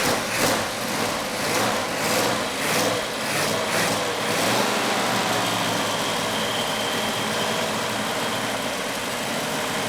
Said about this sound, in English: The engine fired up really nice.